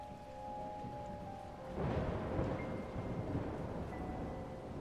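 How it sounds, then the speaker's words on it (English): Rain falling at night, a steady soft hiss of drops that swells into a fuller rushing downpour partway through, with a low rumble and no voices. "As the rain gently falls and the night grows deeper"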